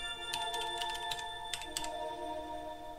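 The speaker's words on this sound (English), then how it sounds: "I'm typing in the cheat code for it" Fast bursts of clicking on a computer keyboard as a cheat code is entered during a game, close and fairly quiet, over a steady background hum.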